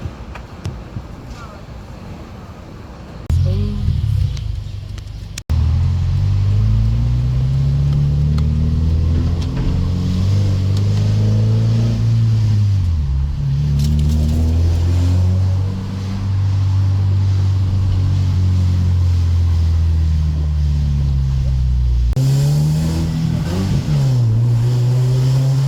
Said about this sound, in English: Now this is me in normal driving, keeping it in first so I can get for a little bit longer to hear how it would sound